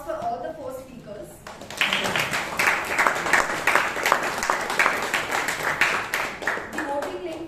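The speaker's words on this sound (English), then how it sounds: "A big round of applause for all the 4 speakers." Applause at a Toastmasters meeting in Bangalore for four speakers: a voice talks briefly, then a group claps steadily for several seconds, with speech returning faintly at the end.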